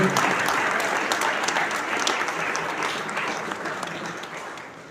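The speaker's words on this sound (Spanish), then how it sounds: "un fuerte aplauso" A church congregation at a Sunday service breaks into loud, sustained applause, a dense wash of clapping that gradually fades near the end.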